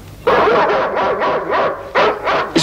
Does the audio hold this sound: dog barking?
yes